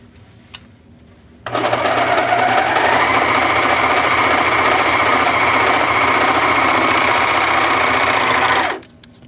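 A Singer Pro Fi serger overlock sewing machine starts up and runs at steady speed for several seconds, a loud continuous close-up whirring with rapid mechanical chatter, then stops abruptly.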